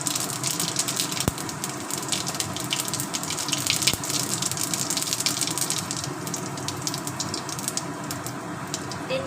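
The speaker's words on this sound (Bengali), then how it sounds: "ওই তেলেই আমি দিয়ে দেব গোটা জিরে" Whole cumin sizzles in hot oil left in the pan after frying pointed gourd, a steady, dense frying hiss that holds close and loud throughout with no voices.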